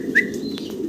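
Running pigeons at a large Bangladeshi pigeon farm give one short, bright call near the start, over a steady low hum of background noise.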